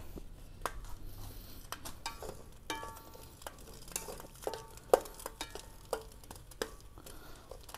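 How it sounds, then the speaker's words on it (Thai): Chinese sausage frying in oil in a pan, a steady soft sizzle with intermittent clinks and scrapes of a utensil stirring against the pan, close and moderately quiet, with no talking. "เติมน้ำมันลงไปทอดกุนเชียงก่อนนะครับ"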